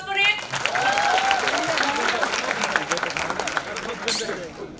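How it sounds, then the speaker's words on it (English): An audience at a debate breaks into applause, a dense, steady wash of clapping that holds for several seconds before easing off, with a few voices murmuring underneath. "Can we have a round of applause for it?"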